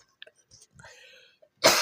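A single harsh cough bursts out at the end, loud and close, after a few soft breathy sounds and faint murmuring.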